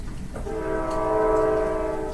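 A train passes in the background with its horn blowing a sustained, fairly loud blast over the rolling rumble of the cars; no one speaks.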